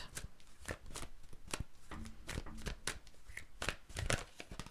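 Tarot cards shuffled by hand in a reading, a run of crisp riffling snaps and soft slaps close to the mic in an irregular rhythm, with no talking.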